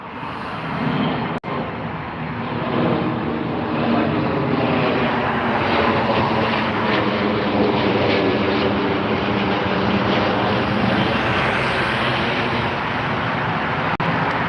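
A Korean Air Boeing 747 at Heathrow gives a loud, continuous engine roar and whine that holds steady throughout, with no voices.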